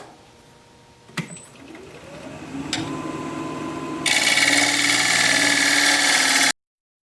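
A wood lathe spins up and a gouge cuts into a tri-corner bowl blank, a rising motor hum and then a loud, steady scraping hiss of the cut that stops abruptly.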